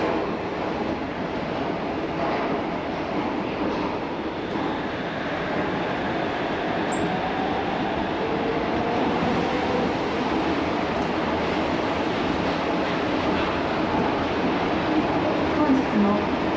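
Shonan Monorail suspended monorail train running near Enoshima, a steady, close rolling rumble and rushing noise that holds at an even level throughout.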